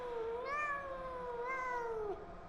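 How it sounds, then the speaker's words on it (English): Two clear, close meows, one after the other, each rising and falling in pitch, from a cat in the Pathologic 2 video game, with a quiet background and no speech. "I hear a cat."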